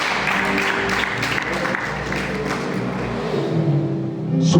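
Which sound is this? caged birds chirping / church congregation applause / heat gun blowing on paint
church congregation applause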